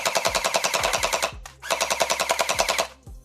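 A Nerf Pro Gel Blaster Mythic fires gel balls in two rapid full-auto bursts of evenly paced mechanical pops, loud and close, with a brief pause between bursts and no talking.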